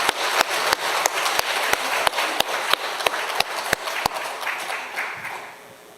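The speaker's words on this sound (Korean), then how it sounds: "하나님께 영광 돌린 박수를 한 번 더 힘차게 하겠습니다." A church congregation claps together in a firm, steady rhythm, sharp even beats close by that carry on for several seconds before softening and fading out at the end.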